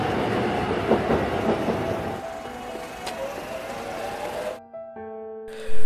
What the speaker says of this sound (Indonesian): Yunjo telah naik ke kereta lebih dulu